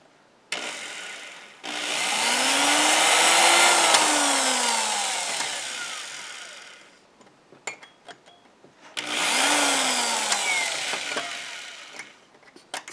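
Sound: small drill drilling pinball part

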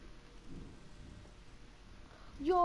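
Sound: thunder and rain in the video game Minecraft

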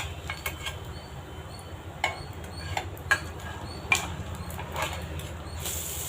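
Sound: flipping frying snacks in a pan with two ladles

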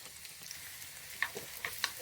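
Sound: onion and pepper frying in olive oil in a pot

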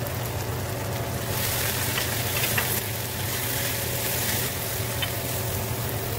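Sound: carrots frying for chicken chow mein

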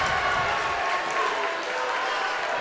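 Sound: basketball crowd cheering and applauding

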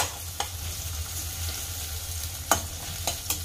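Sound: onions frying in a pan

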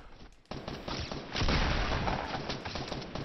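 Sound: gunfire in the video game Fortnite

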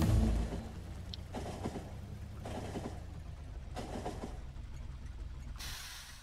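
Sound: train passing in the video game Factorio

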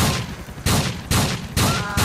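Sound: shotgun fire in Grand Theft Auto IV video game

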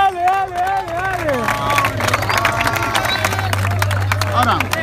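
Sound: audience applause at a rap battle

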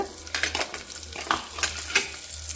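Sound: okra pieces added to frying onions, sizzling

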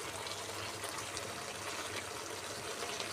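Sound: water poured into cooking pot

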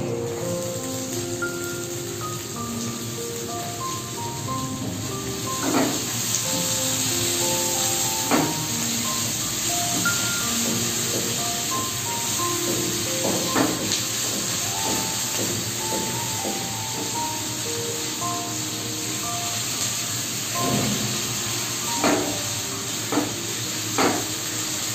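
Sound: cut potatoes frying with onions in a pan

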